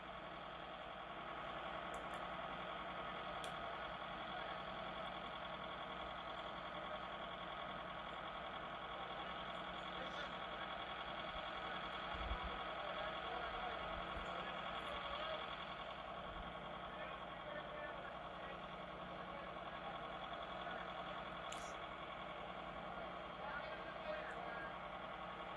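A backhoe engine idles steadily at a low rumble on snow-covered ice, a continuous mid-distance drone with faint clanks and occasional high beeps, under low talk.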